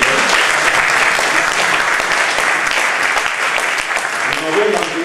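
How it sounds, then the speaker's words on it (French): Steady, dense audience applause from a crowd at a French-language talk on men's role in children's education, loud and sustained throughout with no pauses. "Nous allons applaudir nos..."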